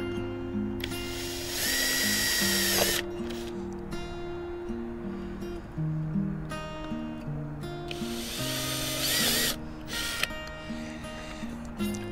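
A power drill whirs in two long bursts separated by a quieter pause, drilling into a 2021 Hobie PA12 360 kayak, close and loud, with a low motor hum throughout.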